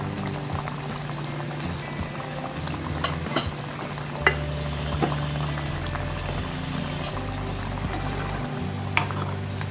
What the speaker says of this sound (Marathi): बघा चांगली उकळी आली आपल्या